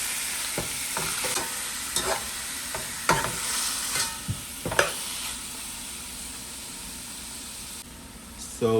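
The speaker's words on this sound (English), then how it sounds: "now I'm going to add the beef." Beef sizzles and fries in a pot with fresh thyme for a Jamaican stew, a steady hiss broken by sharp scrapes and clacks of stirring, heard close and fairly quiet.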